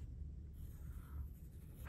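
Pencil lightly drawing circles on paper, a soft continuous scratchy rubbing that stays close and steady throughout with no talking.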